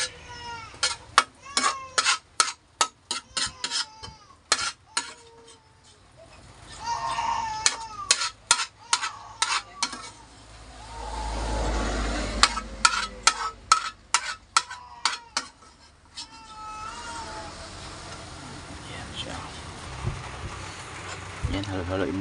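A fork or spoon beats egg mixture for a banana blossom omelette in quick rhythmic clicking bursts against a bowl, with a voice and chickens or farm animals audible in the background.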